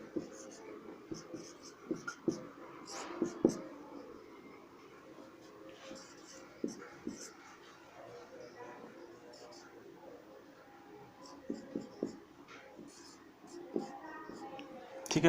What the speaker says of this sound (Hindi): तो सबसे पहले मैं विपरीत शब्दों को लिख देता हूँ।